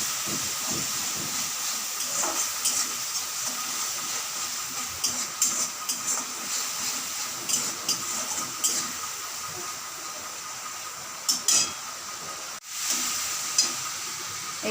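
Ginger and grated tomato hit a hot pan for a taro curry, setting off a steady, loud hiss and sizzle with scattered sharper crackles throughout.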